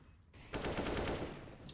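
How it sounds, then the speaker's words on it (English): Rapid automatic AK rifle spray in Counter-Strike: Global Offensive, an Inferno match in a competitive esports game, bursting in loud and dense after a short quiet lead-in and holding steady for over a second. "Jean spraying the AK"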